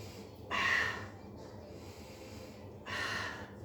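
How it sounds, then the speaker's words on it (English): Two deep, audible breaths during a standing balance exercise, each a long airy inhale or exhale about a second apart, close and clear with no talk over them. "One more big breath."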